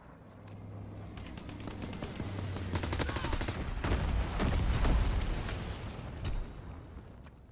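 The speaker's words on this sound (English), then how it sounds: "Dropping incendiary." Low-altitude bomber dropping incendiaries in Call of Duty WWII multiplayer: rolling bursts of rapid gunfire and explosions swell into a loud, sustained barrage, then ease off, with a low engine drone underneath.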